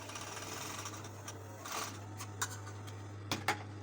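A domestic sewing machine hums steadily as it stitches a shoulder seam on a top, with a few sharp clicks and brief bursts of faster stitching near the end.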